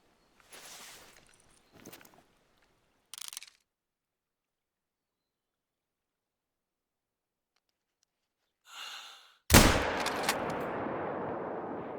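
A single loud, sharp rifle shot fired at a deer while hunting in theHunter: Call of the Wild, ringing out after near silence and a few soft rustles, then a long rolling echo that fades slowly.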